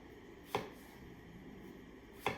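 A knife dices cucumber on a cutting board, two distinct sharp chops about two seconds apart against a quiet background.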